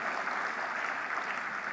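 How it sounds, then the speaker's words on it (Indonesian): An audience applauds at a school achievement report, a dense, even wash of clapping that holds steady throughout. "berikan aplaus untuk ananda dan Tursina sekalian"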